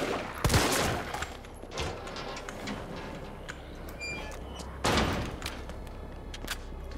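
Gunfire in the video game Resident Evil 3: two sharp, loud shots stand apart, with quieter clicks and rattles of game noise in between.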